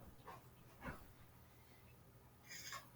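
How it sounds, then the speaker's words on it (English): A dog barks and whimpers faintly in the background of a workshop call, with a few short yips and whines spaced across a few seconds. "Again, I apologize for my dog."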